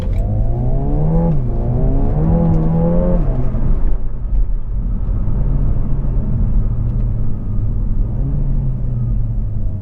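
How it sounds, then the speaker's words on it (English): A Renault Megane RS with a manual gearbox revs hard through several quick rising pulls in the cabin, then settles into a deep steady engine drone with a short blip of revs near the end. "Downshifts are very nice as well."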